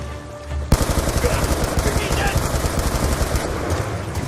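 Sustained automatic gunfire from the video game Black Ops 2 breaks out suddenly and continues as rapid, loud bursts, with battle noise around it.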